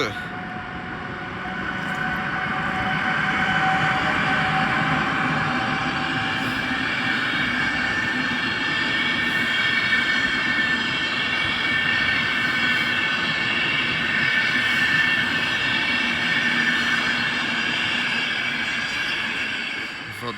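A Vectron electric locomotive numbered X4E 803 passes through snowy Warszawa Zachodnia station, rising within a couple of seconds into a loud, sustained rumble and hum of rolling rail cars with faint wheel squeal, lasting the full twenty seconds.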